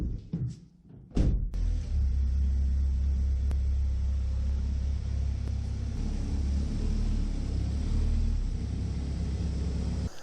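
A Chevrolet Cobalt drives along on a test drive, a steady low engine and road rumble heard from inside after a couple of short thumps at the start.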